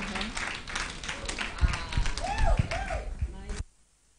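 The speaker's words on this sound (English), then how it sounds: "are you clapping? Yes." Audience applause at a ladies' night church service, a steady patter of clapping under a voice and scattered cheers, stopping abruptly near the end.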